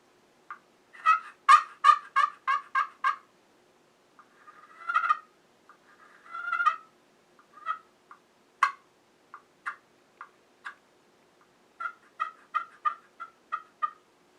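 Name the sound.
turkey call imitating turkey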